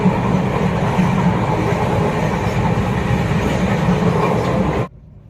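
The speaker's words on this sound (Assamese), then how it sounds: "এতিয়া ৰাতি 10 বাজিছে আৰু আমি ট্ৰেইনত উঠি গ'লোঁ" Inside a night passenger train in Assam, a loud, steady rumble of the carriage rolls on continuously, then cuts off abruptly near the end, with no talking.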